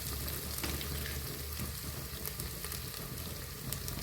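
Peanuts frying in hot oil in a pan while cooking spicy masala rice, a steady, close, crackling sizzle that stays even throughout with no talking.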